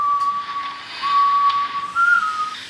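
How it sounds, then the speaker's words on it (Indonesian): In Resident Evil 6, Jake Muller whistles a tune while carrying an apple and strolling around. The whistle is clear, close and melodic, with short held notes and a rise in pitch near the end, over a soft background hiss. "terlihat Jack Muller sedang bersiul, membawa apel, dan berjalan-jalan di sebuah tempat"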